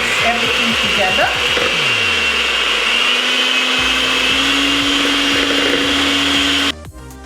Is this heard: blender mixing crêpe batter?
yes